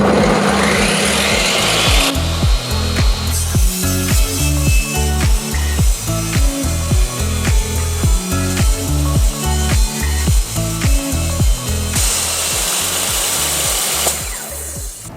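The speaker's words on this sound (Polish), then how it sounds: "Cięcie bambusa to jest masakra, bo to jest bardzo twarde i generalnie ciężki temat." A power saw bites through a long, very hard bamboo countertop slab being trimmed for an IKEA GODMORGON vanity, loud and close, with a rough, rhythmic cutting drone and repeated low pulses as the blade strains and binds in the dense material.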